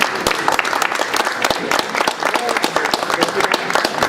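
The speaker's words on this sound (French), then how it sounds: "Vos applaudissements seront retransmis à l'auteur." An audience at an award ceremony for a blogger prize at Utopiales 2014 applauds with loud, distinct individual claps in a steady patter, with some voices mixed in.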